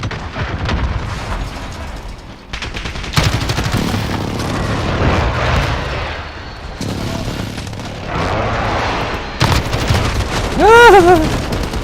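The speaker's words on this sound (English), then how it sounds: "Be advised. Friendly precision airstrike." Call of Duty match with a friendly precision airstrike: loud booming explosions and rapid gunfire crackle in bursts, layered with game announcer voice and a player talking.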